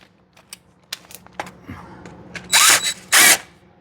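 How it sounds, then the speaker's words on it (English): A power drill bores a hole for tapping into a Kioti tractor, starting with sparse clicks and scrapes, then two loud, harsh grinding bursts near the end. "The drill's not even holding on."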